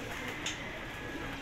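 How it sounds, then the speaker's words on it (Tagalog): Racing pigeons coo softly inside a loft, steady and fairly close, under a constant background hum. "Karera na kalapati."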